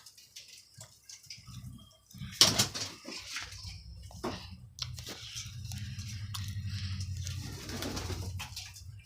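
Pet pigeons coo and shuffle in their coop, low throaty calls repeating close by, with scattered sharp taps and wing flutters, and a steadier murmur of cooing building toward the end.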